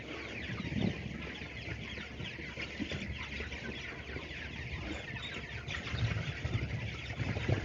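Thousands of chicks being moved out of a brooder house, a dense continuous chorus of clucking and peeping from many birds at moderate distance, with occasional louder calls.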